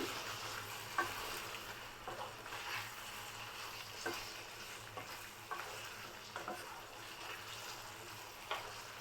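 Chopped coriander being stir-fried into an egg tikka masala, a soft, fairly faint sizzle with occasional spatula scrapes at irregular intervals and no voices.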